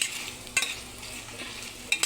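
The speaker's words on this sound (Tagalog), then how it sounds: "Medyo piprito natin siya ng kunti." Adobo with potatoes frying in its own oil in a pan while being stirred: a steady close sizzle broken by a few sharp scraping stir strokes, with no voices.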